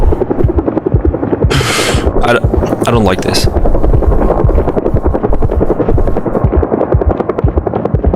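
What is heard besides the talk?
helicopter flying overhead in the video game Project Zomboid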